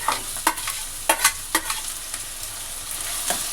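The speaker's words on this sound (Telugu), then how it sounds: "ఆనియన్ ఫ్రై అవుతూ ఉందండి." Chopped onion frying in a pan, giving a steady close sizzle while a spatula scrapes and taps through it every second or so, with no talking.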